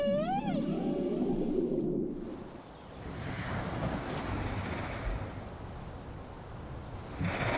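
Male whales off Baja sing a rising, wavering moan that sweeps upward and falls away, fairly loud at first, then the song fades into a rushing underwater wash of ocean noise.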